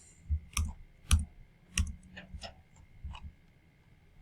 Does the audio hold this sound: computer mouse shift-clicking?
yes